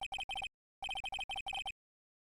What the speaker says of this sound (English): That phone call right now.